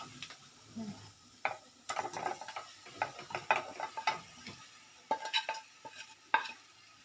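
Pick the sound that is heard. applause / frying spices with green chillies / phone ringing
frying spices with green chillies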